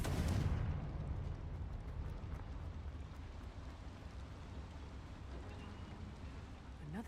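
Fire spell exploding in the video game Hogwarts Legacy, a heavy boom at the start followed by a rumbling, crackling decay that lingers at moderate level.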